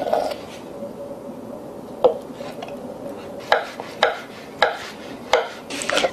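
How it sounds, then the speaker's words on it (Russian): A knife chops carrots on a board in a kitchen, with sharp separate cuts at uneven intervals, a few in a quicker cluster toward the end, over a quiet room background. "Режем морковку."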